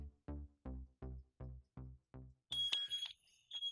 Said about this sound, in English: If I move that same smoke alarm to my kitchen where I'm cooking food and I open the door, I think many of you know what's about to happen.